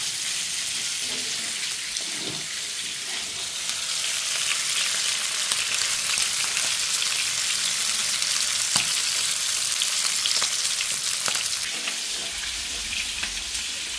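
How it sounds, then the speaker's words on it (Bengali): Beef frying in a pan in a home kitchen, a steady, fairly soft sizzle that continues for the whole stretch, with faint background noise and no clear speech. "মাংস ভাজা হচ্ছে"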